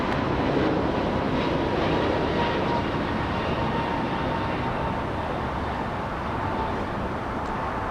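An American Airlines Airbus A321 jet at LAX gives a loud, continuous broadband engine roar that eases slightly over several seconds, with no voices.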